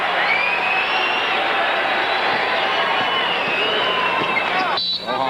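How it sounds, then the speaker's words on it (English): A basketball arena crowd cheers on the Boston Celtics against the Portland Trail Blazers in 1988, a steady roar of noise and whoops with a commentator talking over it. "The crowd trying to get behind Boston, see if they can get something going."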